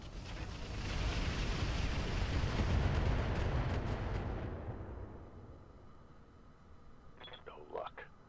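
A mech in the Roguetech video game fires a heavy weapon in one long, booming, rumbling blast that swells and slowly fades, followed by faint electronic chirps and a quiet voice near the end.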